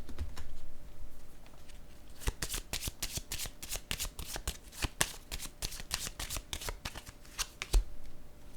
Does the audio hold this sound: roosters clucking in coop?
no